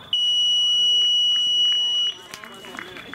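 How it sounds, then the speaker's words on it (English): A loud, sustained electronic end-of-game buzzer blares for about two seconds after a countdown, then cuts off, leaving scattered voices and light background noise. "the little buzzer goes at the end of the game"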